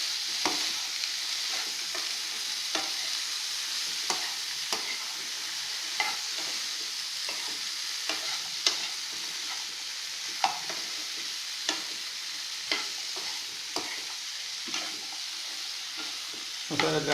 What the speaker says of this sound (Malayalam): പനീർ അരിഞ്ഞ് അതേ സൈസ് അരിഞ്ഞത് ഇതൊന്ന് മിക്സ് ചെയ്യാം